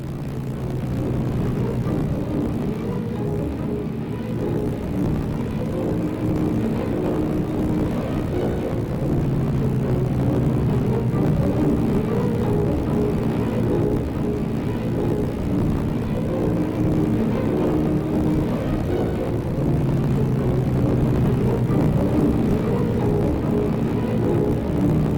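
A Heinkel He 111 bomber drones in flight, its propeller engines giving a continuous low, throbbing hum with slow beats, steady and fairly loud throughout without any speech.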